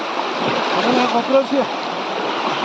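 River water rushes continuously close by at night, a broad steady flow from a full river, with a voice briefly heard beneath it.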